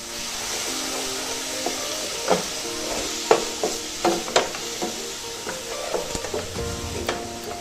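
Masala okra (bhindi) stirred in a pan over a flame: a steady soft sizzle carries a run of clear scraping and knocking strikes from the spoon against the pan, close and irregular, with no talking.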